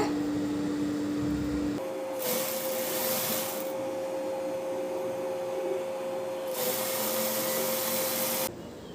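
Sewing machine stitching a folded hem on a T-shirt made from a chudidar, a steady whirring drone with bursts of faster stitching and a constant tonal hum, close and continuous before stopping near the end, no talking.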